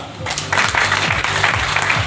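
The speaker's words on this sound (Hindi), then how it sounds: "जोरदार तालियां" Loud applause from an audience at a business gathering, dense clapping building after a brief start and holding steady, with faint murmur or music underneath.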